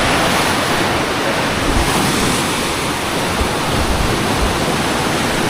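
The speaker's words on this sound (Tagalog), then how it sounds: "Ayun, lakas ng alon eh." Strong sea waves pound the shore in a continuous roaring wash of surf, loud and close, with wind buffeting the microphone and no voices.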